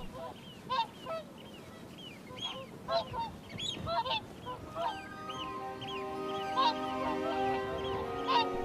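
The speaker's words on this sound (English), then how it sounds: "The swans are in transit," Migrating swans call in repeated honking notes, some overlapping, over a rough outdoor background, with a steadier tonal drone joining partway through.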